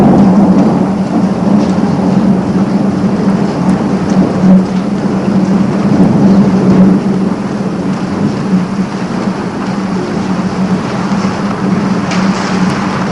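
Heavy rain pours steadily with rolling thunder rumbling underneath, a loud, dense thunderstorm sound continuing throughout with no voices.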